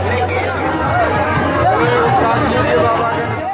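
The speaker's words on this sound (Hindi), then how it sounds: "यहाँ पर भारी भीड़ है" A dense crowd of pilgrims mills at a checkpoint near Pahalgam, with many voices blending into continuous close chatter and babble.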